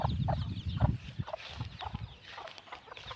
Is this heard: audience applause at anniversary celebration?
no